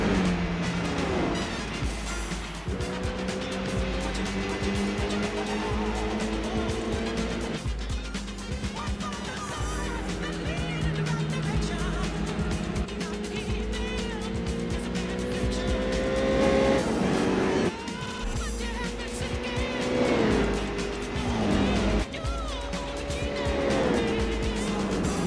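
A Mitsubishi Lancer race car in Gran Turismo 4 drones steadily through the whole stretch, engine pitch rising and falling with gear changes, with occasional tire squeal and a voice talking over it.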